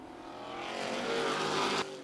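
Late model race cars roar down the backstretch at Mt. Lawn Speedway under green flag racing, a loud, steady engine drone that swells as the pack passes and then cuts off sharply near the end.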